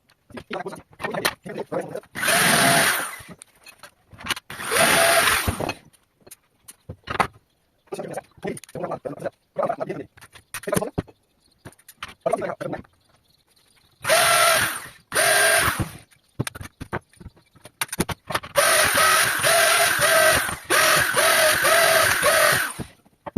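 A power drill drives screws into a 32x32 aluminium angle bracket for an aluminium floodgate, sounding in several loud bursts of a few seconds each. Quieter handling noises fill the gaps between the bursts.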